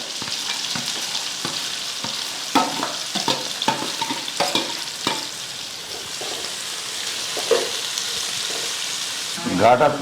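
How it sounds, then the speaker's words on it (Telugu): Onions frying in a pan for an egg curry, a loud continuous sizzle broken by repeated stirring scrapes and clinks, with brief voices now and then. "ఆనియన్స్ అయితే వేగాలి మంచిగా అవి కొంచెం బ్రౌన్ కలర్ వచ్చేదాకా వేయించుకోవాలి"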